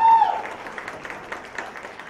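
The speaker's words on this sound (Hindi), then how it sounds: "जूनियर पूरी के लिए तालियां प्लीज" Brief, fairly quiet applause from a crowd at a men's fairness cream brand launch, a soft scattered patter following a short tonal blip at the start.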